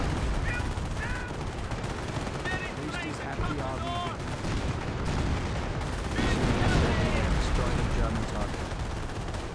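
Sustained gunfire from a Company of Heroes 1 World War II battle, a dense run of shots and bursts over steady battle noise, with a commentator talking over it throughout.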